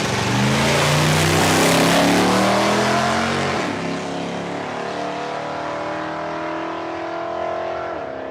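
A drag racing truck launches down the strip at Palmyra Raceway, its engine roaring loud and high as it pulls hard, then fading and dropping in pitch as it runs away into the distance.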